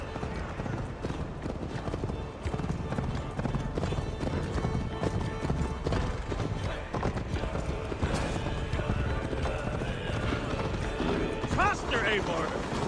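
Horse hooves clip-clop in a rapid galloping rhythm in Assassin's Creed Valhalla, steady and close, with a brief whinny near the end.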